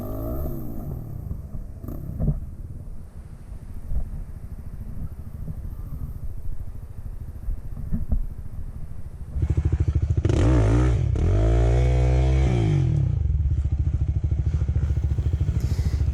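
A four-wheeler ATV at a hare scramble race idles and chugs while struggling to turn around in mud, then its engine revs hard and loud for the last several seconds, close and continuous.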